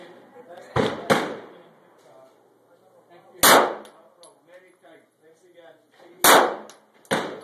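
9mm handgun shots fired indoors, five loud, sharp reports in pairs and singles with ringing reverberation between them, quiet talk audible in the gaps.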